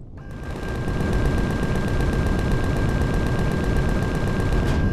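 Sustained rapid automatic gunfire in the space survival game Empyrion, a dense, loud, steady stream of shots shooting out a core, with a constant high tone underneath and no talking.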